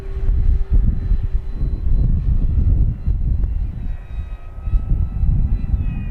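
An FMS Corsair 1700mm RC warbird on landing approach with gear and flaps down, its electric power system droning steadily at close range with the pitch and level shifting slightly as power eases off.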